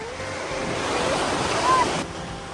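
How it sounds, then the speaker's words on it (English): Ocean surf rolls onto a large beach as a continuous, broad wash of water noise with some wind buffeting the microphone and no distinct pauses. "That's a big beach."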